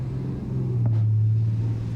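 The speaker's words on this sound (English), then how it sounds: "Loud car." A loud car rumbles past outside, a deep low engine drone swelling slightly as it goes by, heard alone without speech.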